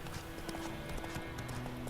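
Horse hooves clip-clopping in a steady walking rhythm in The Witcher 3, close and continuous over a layer of game background sound.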